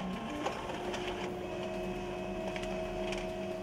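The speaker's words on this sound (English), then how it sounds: "the printer will begin to scan." A document printer-scanner runs its scan with a steady mechanical whir and a faint hum, plus light rhythmic clicks as the scan head travels. The noise is continuous and close, with no talk.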